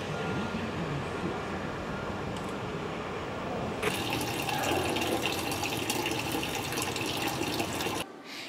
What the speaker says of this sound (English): Can you guys hear the sound of water?